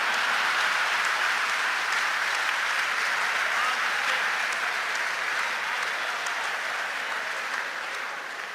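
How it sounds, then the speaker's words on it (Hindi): Loud, sustained applause from a large audience at a Hindi kavi sammelan poetry recital, a dense continuous wash of clapping that holds steady and tapers slightly toward the end. "इस बात पे भाजपा वाले भी ताली बजा रहे हैं।"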